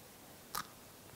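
A single brief crisp crunch of a bite into a crispy waffle cone made on an MKS CIC14 electric waffle cone maker, faint and close, with quiet room tone around it.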